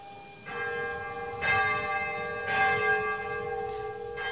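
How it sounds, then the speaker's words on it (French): The restored bell of the Cathedral of the Immaculate Conception in Nagasaki tolls at the atomic bomb commemoration, with repeated deep strikes about once a second and long ringing hum between them, clear and resonant with no talk. "la cloche de l'imposante cathédrale de l'Immaculée Conception, édifice détruit par l'explosion atomique, a retenti pour la première fois depuis 80 ans"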